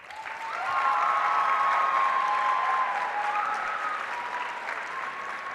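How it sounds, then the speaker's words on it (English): An audience at the Key Club International Convention closing session gives a round of applause, the clapping swelling within the first second and holding steady and full, with a faint tone running underneath. "Let's give a huge round of applause."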